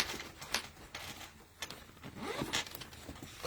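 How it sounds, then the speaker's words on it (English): Zipper on a handmade sewn bag being pulled closed, a few quick scratchy zips of the metal or nylon teeth, close up and fairly quiet with no talk. "Close your zipper."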